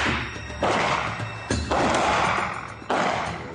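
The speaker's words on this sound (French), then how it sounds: "Série de coups de feu dans la campagne valentinoise." Gendarmes at firearms training in the countryside around Valence fire a series of sharp, loud shots, four irregularly spaced reports, each trailing off in a short echo.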